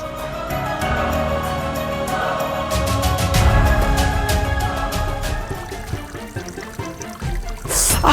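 Cold water pouring and trickling steadily and fairly loudly for several seconds, with splashing and a brief louder rush near the end, no talking.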